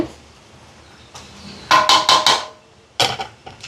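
Pepper and turmeric stirred into a pot for a charity food-service meal: a few bright clanks and scrapes of a spoon on metal in two short clusters, close and fairly loud, with quiet gaps between.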